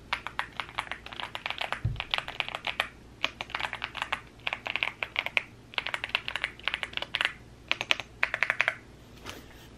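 Typing on an Osume SK71 mechanical keyboard: quick clusters of crisp, close clacks and taps in uneven bursts with brief pauses, fairly quiet overall, with one soft low thump.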